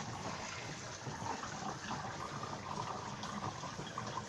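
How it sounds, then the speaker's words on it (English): Steady rushing of water draining from the tub of a ZENY compact mini twin tub washing machine, a continuous gurgling wash with no pauses, close and moderately loud. "So you can see the water's going down."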